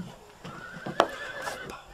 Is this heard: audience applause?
no